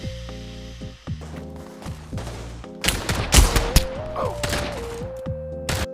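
Rapid gunfire in the VR shooter Pavlov, with a run of sharp shots and bursts over ongoing game sounds, loud and close.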